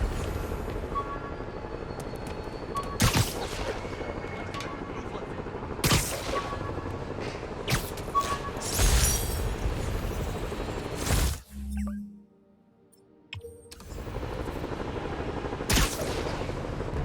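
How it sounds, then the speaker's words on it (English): Gunfire in the video game Marvel's Spider-Man, with repeated loud bursts of shots crackling over a steady background of game noise, then a brief lull before the firing resumes. "We're taking fire."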